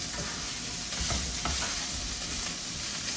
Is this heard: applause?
no